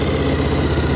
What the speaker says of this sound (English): Here we go, we'll fire it off.